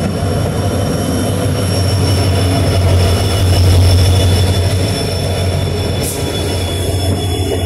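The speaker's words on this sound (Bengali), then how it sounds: "তো ফাইনালি সেই ট্রেনটা স্টেশনে ঢুকে এসে ঢুকলো" A loud passenger train rumbles steadily close by on a North Bengal line, its wheels grinding and squealing in a continuous heavy roar as it rolls into the station.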